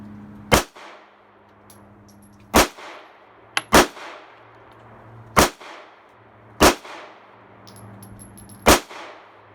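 Six sharp, loud pistol shots from a Smith and Wesson Bodyguard 380 fired with Blazer aluminum ammunition, spaced a second or two apart on a range, each with a quick ringing decay.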